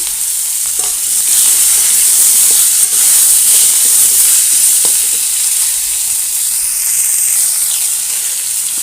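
Pointed gourd pieces, salted and tossed with turmeric, fry in hot oil with green chilli and five-spice seeds in a pan, giving a loud, steady sizzle and hiss with an occasional faint stir, no voices.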